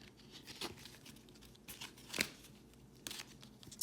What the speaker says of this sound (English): now I'm gonna do the shuffle.